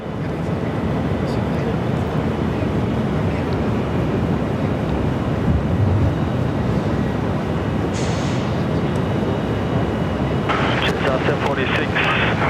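A China Eastern airliner takes off at Sydney Airport with a broad, loud, steady engine roar, heard up close from on board with a faint voice now and then.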